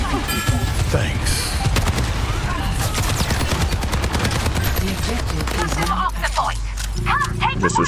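Rapid gunfire in the first-person shooter Overwatch 2, dense bursts of automatic shots rattling continuously over game effects, with a player's voice talking over the action.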